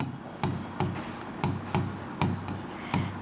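Chalk or a marker scratches across a board in a classroom lesson, a series of short, evenly spaced strokes about every half second, close and fairly quiet with no talking.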